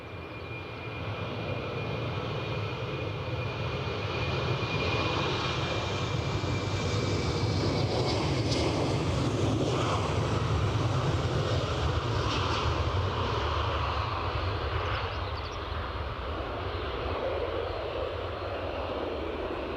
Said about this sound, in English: That Ryanair departure to Rome has finally started